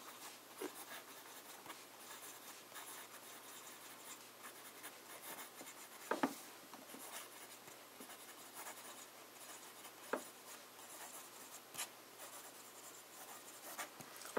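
A fountain pen with a broad, wet nib moves steadily across paper, giving a soft continuous scratching broken by a few sharper strokes and taps, close and quiet throughout.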